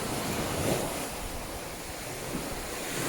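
Sea waves wash steadily onto a Sardinian beach at sunset, a continuous near surf roar with wind buffeting the microphone and no voices.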